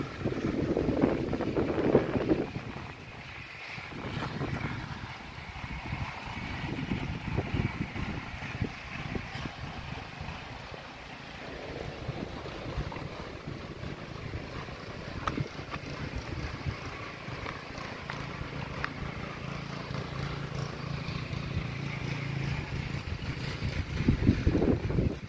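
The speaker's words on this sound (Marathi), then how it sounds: "आज वारा पण भरपूर आहे, भरपूरच लागतंय, झाडं वगैरे बघा कशी हलतायत ती।" Strong wind gusts across open farm fields where trees sway, a continuous loud rushing roar with heavy buffeting on the microphone, rising and falling throughout.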